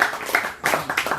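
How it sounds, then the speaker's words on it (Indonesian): An audience applauding everyone who attended an evening book discussion: a short burst of clapping in a few uneven surges, fairly faint and from a small group, with no voices. "Tepuk tangan untuk semua yang telah hadir."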